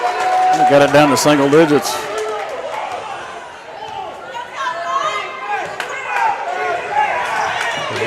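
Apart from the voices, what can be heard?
basketball crowd cheering in the gym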